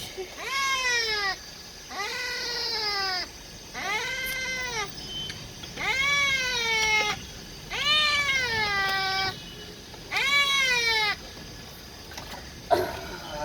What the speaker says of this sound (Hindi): बिल्ली फंस गई है।